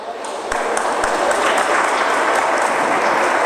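Audience applause welcoming a presenter onto the stage at a smart city congress, a dense steady wash of clapping that swells after a brief start and holds loud throughout.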